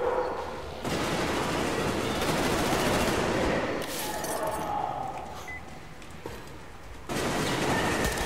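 Heavy gunfire from a shotgun in the video game Metro Exodus, with loud sustained bursts of blasts and clinking that stop briefly and then return.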